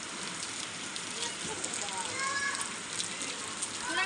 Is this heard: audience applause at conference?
no